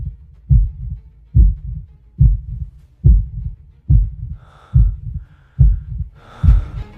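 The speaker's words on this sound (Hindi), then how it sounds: "उसका दिल इतनी जोर से धड़क रहा था कि उसे अपने कानों में अपनी ही धड़कन सुनाई दे रही थी।" A loud, pounding heartbeat thumps in a steady lub-dub rhythm, about one beat per second, deep and close, with faint tonal sounds creeping in over the last few beats.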